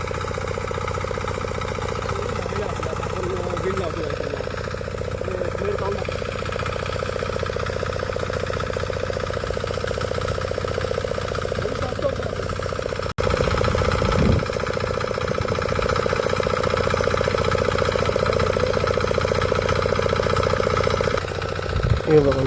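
A farm tractor idles steadily while its ploughing wheels are swapped for normal road wheels, a constant mid-pitched engine drone that grows slightly louder partway through.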